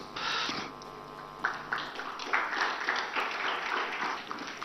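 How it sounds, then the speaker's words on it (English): An audience at the Pride East Conclave breaks into applause as Sadhguru is welcomed onto the stage, dense clapping that swells and then carries on steadily, moderately loud, with no talk over it. "a bigger round of applause for Sadguru"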